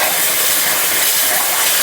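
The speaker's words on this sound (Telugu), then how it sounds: "ఇప్పుడు టమాటా గుజ్జుల్లో పోసుకోవాలి. ఇది టమాటా ఉన్న చింతపండు మిక్సీ పట్టిన." Blended tomato and tamarind paste hitting hot oil for a fish curry, a loud, dense, continuous sizzling hiss, very close and steady throughout.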